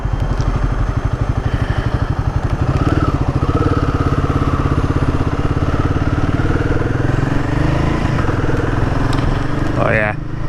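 A Royal Enfield Guerrilla 450 motorcycle rides in eco mode, its engine thumping in a close, steady pulse with some wind and road rumble, while a rider's voice talks over it.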